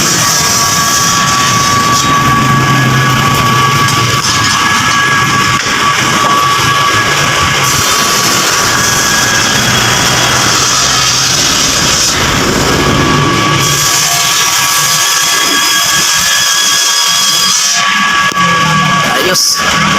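A Honda Wave motorcycle with a cut, broken muffler idles loud and raw, a harsh, steady exhaust roar running unbroken and close-up for the whole stretch.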